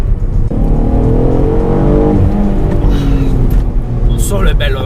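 Alfa Romeo 147 GTA with its 250-horsepower Busso V6 sounds loud and close, the engine note rising and falling through sustained revs with a harsher burst near the end.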